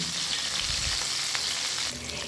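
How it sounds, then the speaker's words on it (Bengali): Marinated fish pieces fry in hot oil in a nonstick pan, making a dense, even sizzling crackle that stays close and continuous throughout, with no one speaking. "তেলটা গরম হয়ে আসলে মেখে রাখা যে মাছটা ছিল সেটা আমি একে একে দিয়ে দিলাম"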